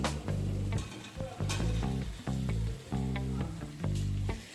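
Fried potatoes and papaya are tossed into a spice paste that has released its oil, giving a close, dense sizzle that surges in repeated bursts with each stir over a low steady hum, without any speech.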